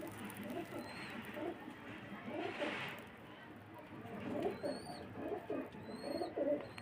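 A pair of teddy pigeons coos softly in a loft in Faisalabad, low murmuring calls repeating under steady background noise, with a few faint chirps from other birds.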